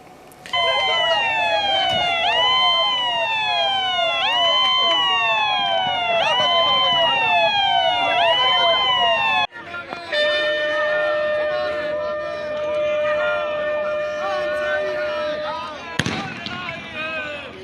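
A loud ambulance siren wails in repeating rising sweeps close by, then switches to a steady multi-tone blare, with a sharp bang near the end.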